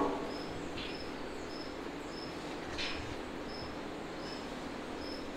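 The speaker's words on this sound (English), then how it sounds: "The cricket's making some good background noise for you guys." Crickets chirp steadily in a quiet calf barn, a regular high trill repeating about every half second against a low, constant hum of background noise, with no talking.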